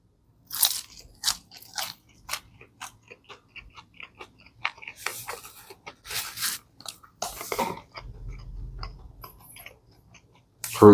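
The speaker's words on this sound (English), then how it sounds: "might as well try out these curly fries" Pizza Hut curly fries are bitten and chewed close up, with sharp crunches followed by quieter irregular chewing and pauses in between.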